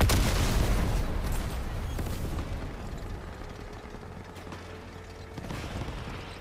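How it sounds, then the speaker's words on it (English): Gunfire strikes a player's armored vehicle in the Crossout combat game, with heavy booming impacts and rattling mechanical noise loudest at the start, fading to a rumbling engine with scattered later hits. "I'm getting shot at from somewhere."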